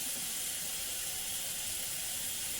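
A stovetop burner switched on to medium-high beneath a pot being readied for sautéing, giving a steady, even hiss that stays fairly quiet and unbroken for the whole stretch, with no voices over it.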